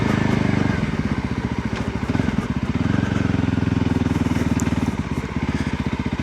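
A Voge 300 Rally motorcycle ridden off-road along a ridgeway, its single-cylinder engine thrumming loud and steady throughout, with close wind buffeting over the top.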